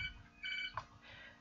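A house phone rings softly in the background with short, repeated electronic trills, faint and slightly muffled, separated by brief pauses.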